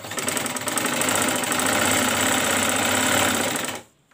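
A sewing machine stitching the raglan armhole seam of a baby frock, a fast, even mechanical whirr running steadily up close before stopping abruptly near the end.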